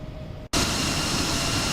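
Exterior engine noise of an X-Crafts E175 airliner in a flight simulator: after a brief dropout, a loud, steady broadband jet roar continues without a break.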